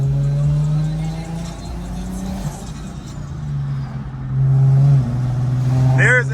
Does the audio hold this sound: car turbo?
yes